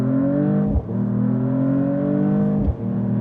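Mercedes-Benz E53 AMG accelerating hard, a loud steady engine drone rising in pitch with two quick gear shifts breaking the climb, heard from inside the car.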